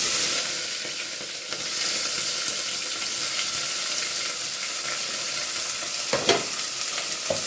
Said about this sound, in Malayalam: ഓയിൽ, അതിലേക്ക് ചെറിയ ഉള്ളിയും സവാളയും ചേർന്നത്,